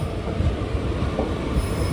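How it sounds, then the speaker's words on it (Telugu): Pamidi Express train rolling along a single-line railway, a steady loud rumble of wheels and wagons with a high squealing band, continuous and close throughout. "సో అది మన మన్నార్గుడి ఎక్స్ప్రెస్ ట్రైన్ ఇది, పామిడి ఎక్స్ప్రెస్ ట్రైన్ ఇది."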